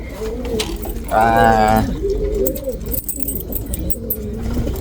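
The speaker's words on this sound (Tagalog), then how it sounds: "Ito yung mga young bird natin ng Arden, yung stencil, tsaka yung gift bird sa atin ni Boss Gio" Young pigeons in a loft coo in soft repeated bursts, one louder call standing out near the middle, with background rustling and a faint jingle throughout.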